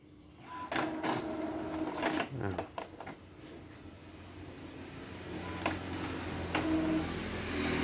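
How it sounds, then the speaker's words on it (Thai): An Epson L3210 inkjet printer runs a nozzle check page, giving off a series of clicks and mechanical clunks followed by a steady low whirring as the paper feeds. Someone speaks quietly over it. "แล้วเครื่องก็จะทำการปริ้นนะครับ เอกสารออกมาหนึ่งใบซึ่งเป็นไนสันเชคนะครับ"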